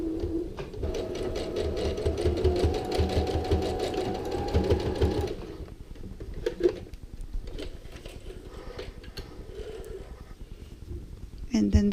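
A sewing machine runs in a steady rapid rattle for about five seconds, tacking a small stitch on a fabric luggage tag, then stops; someone talks afterward over light handling sounds.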